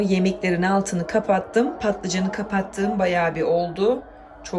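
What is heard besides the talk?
No everyday noise stands out behind the speech.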